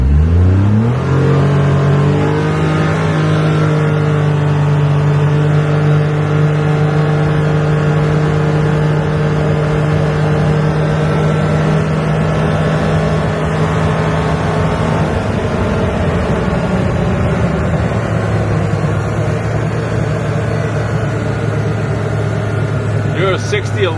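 Ram 1500 pickup with an AA level 1 tune for 91 octane, in sport mode, revving hard on a full-throttle run. The engine note climbs steadily and loudly, then drops at a gear change and climbs again. Faint talk sits beneath the engine.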